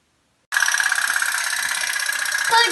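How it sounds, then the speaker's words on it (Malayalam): A steam-powered toy pop-pop boat runs up close after a moment of silence, giving a rapid, steady puttering buzz that keeps an even rhythm throughout. "അതിന്റെ ഫസ്റ്റിലാണ് നമ്മുടെ ബോട്ട് ടിക്കിടിക്കാന്ന് ഓടുന്നത്."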